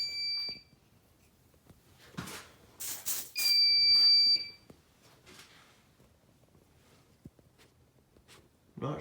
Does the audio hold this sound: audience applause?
no